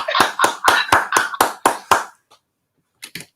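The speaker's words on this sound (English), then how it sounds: "Are they all applauding?" Hand claps during a celebratory hundredth episode of a live Irish myths show, about eight crisp evenly spaced claps close up, a brief silence, then two more quieter claps.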